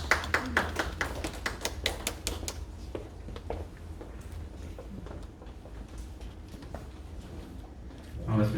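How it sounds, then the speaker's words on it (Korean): Audience applause at a Korean regional innovation investment competition as a presenter is welcomed to the stage: a burst of loud clapping for the first few seconds, thinning into scattered claps over room murmur. "박수로 모시겠습니다."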